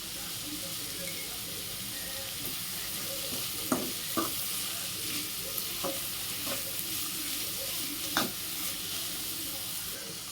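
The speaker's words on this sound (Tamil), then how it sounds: "கொடமிளகா ஆட் பண்ணிவிட்டு அதையும் நல்லா வதக்கி விட்டுருங்க" Mixed vegetables with capsicum sautéing in a pan for egg fried rice, a continuous close sizzle with intermittent stirring scrapes and spoon taps throughout.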